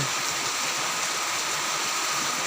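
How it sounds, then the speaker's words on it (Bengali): Steady heavy rain pours down continuously during a days-long spell of very heavy rainfall, a dense, even hiss with no pauses and no voices. "মাশাআল্লাহ বৃষ্টি হচ্ছে।"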